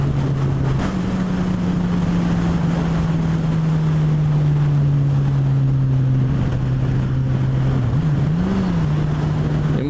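A Suzuki GSX-S1000 motorcycle is ridden with a steady engine drone and a continuous rush of wind, the engine pitch holding level before a brief rise and dip near the end.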